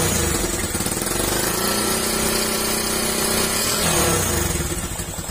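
A Yamaha Vixion motorcycle fitted with a scooter exhaust runs loud and close, its rough exhaust note rising and falling as the throttle is blipped.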